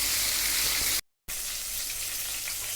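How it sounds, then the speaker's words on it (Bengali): Bhetki fish pieces fry in hot oil in a wok with a loud, steady sizzle that cuts out briefly for a moment before resuming just as strongly. "মাছগুলোকে আমি হালকাভাবে ভেজে উল্টে নেব।"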